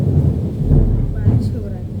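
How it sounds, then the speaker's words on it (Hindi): Very heavy rain with low thunder rumbling, a dense continuous roar with no talk over it. "बहुत भारी बारिश"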